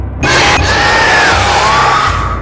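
A sudden jump-scare scream from the horror video game Six Nights at Zany Club bursts in loudly and holds as a sustained, wavering shriek that dominates the moment.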